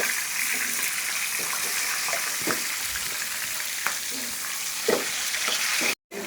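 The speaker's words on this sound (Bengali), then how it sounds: "রোস্টের জন্য আমি ভেজে নিব লেগ পিসগুলো" Chicken leg pieces fry in hot oil for a roast, a loud, continuous sizzle with faint stirring clinks, cut off briefly near the end.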